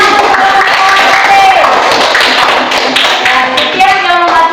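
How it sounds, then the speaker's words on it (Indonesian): Classroom applause for a student group, close, loud rapid clapping from a small class with overlapping voices talking and calling out beneath it. "tepuk tangan untuk kelompok C"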